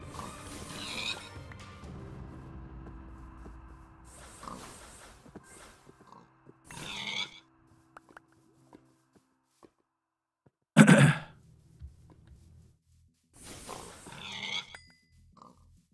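Black pigs grunting in a video game: several separate bursts of low, rough grunts and squeals spaced across the stretch, some loud and close, with quiet gaps and faint game noise between them.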